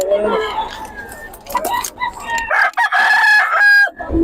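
A rooster crows loudly and close, a long drawn-out call, with hens clucking and people talking in the background, at a poultry sale in Bocaue, Philippines.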